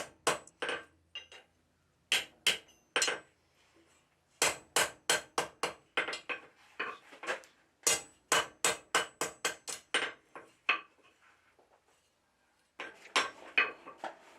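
Bursts of ringing hammer strikes on a hot steel bar, quick runs of blows separated by short pauses, bright and clanging, with no talking.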